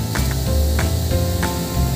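A 2-in-1 knapsack sprayer in automatic mode sprays continuously with a loud, steady hiss and a low motor-like hum beneath it, up close with no talking.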